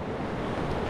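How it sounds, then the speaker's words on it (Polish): Small sea waves on the beach at Karwia, a brief continuous wash of surf mixed with wind rumble, steady and fairly loud throughout, with no voices. "Tu już takie mniejsze fale są w Karwi."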